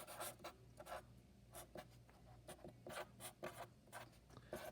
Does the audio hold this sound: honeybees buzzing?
no